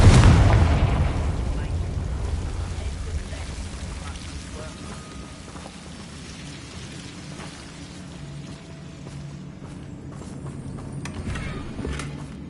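A Confringo fire spell explosion in Hogwarts Legacy, a heavy boom at the start that decays into a long, low rumbling tail and quiet ambience.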